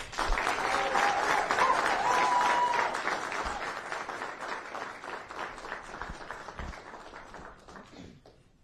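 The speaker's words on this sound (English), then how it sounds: "join me in a round of applause for Colonel Whiddon" An audience at a military retirement ceremony for an Army colonel bursts into loud, dense applause that gradually thins and fades over several seconds, with no voices over it.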